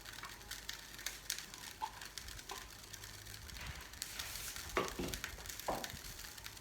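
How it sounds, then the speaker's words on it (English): Chopped onions going into a hot pan for bitterleaf soup give a soft, faint sizzle, with scattered clicks and scraping stirs and a few louder clatters near the end. "We are going in with onions."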